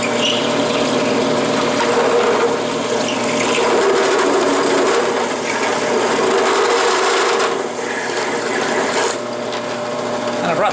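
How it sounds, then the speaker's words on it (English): Drill press running with a step drill cutting into metal, a loud, continuous grinding whir with a rasping edge that holds steady at close range, dipping briefly near the end. "It just so happens I still have the step drill"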